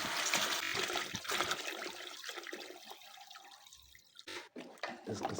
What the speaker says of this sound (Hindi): पानी भी शामिल करेंगे इसमें।